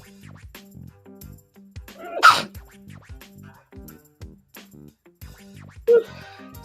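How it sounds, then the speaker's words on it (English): A person sneezes indoors in one sharp, close burst. Faint rhythmic background noise runs underneath, and a second short burst follows a few seconds later. "And gotta sneeze."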